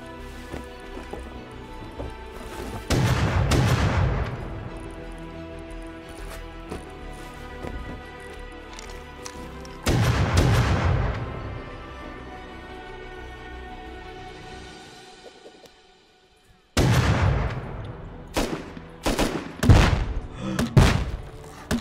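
Grenade launcher blasts and gunfire in the survival game Rust: three separate loud, sharp bursts, each ringing out and fading, followed near the end by a cluster of rapid close shots.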